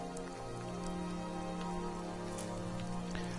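Rain falls in Skyrim, a steady dense hiss and patter of drops on surfaces, continuous and even with a low background hum and no talking.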